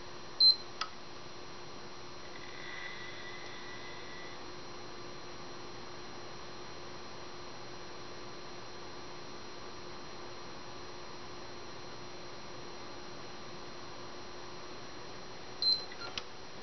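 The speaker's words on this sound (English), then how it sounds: "hold it for 7 seconds and it'll beep twice and go into safe mode" A PlayStation 4 console with the power button held down gives a single short, quiet electronic beep near the start and another near the end, over a steady low mains hum and faint background hiss.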